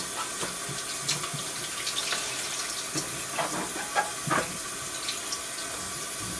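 Water runs steadily from a kitchen tap while a raw chicken is rinsed, a soft continuous hiss with small splashes and faint handling sounds close by.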